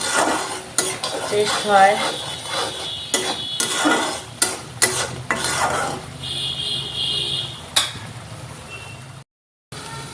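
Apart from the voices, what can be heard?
stirring and frying mustard masala for bata fish curry in pan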